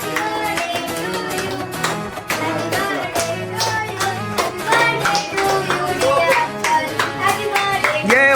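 Lively clapping at a family birthday celebration for a father, many hands beating in quick rhythm, heard together with loud music.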